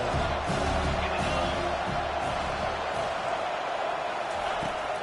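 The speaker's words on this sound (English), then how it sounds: "how nice is it to have the home crowd going absolutely bananas?" A home crowd at an ACC football game roars loudly and continuously, a dense wash of cheering and shouting filling the stadium for the whole stretch.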